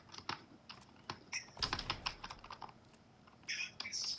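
Quick bursts of keystrokes on a computer keyboard, close and fairly quiet, with irregular clusters of taps and short pauses between them.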